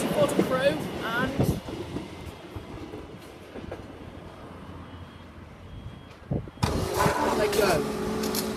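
A train passes close by a foot level crossing at Uttoxeter in Staffordshire, with loud rolling rumble and wheel clatter, engine noise and squealing tones, under spoken commentary.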